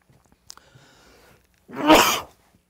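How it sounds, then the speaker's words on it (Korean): A single sneeze from an adult lecturer during a recorded real-estate exam class. It comes as one loud, sharp burst after a few faint clicks and a quiet intake of breath, with no talking over it. "이게 또재채기도한 번 했습니다"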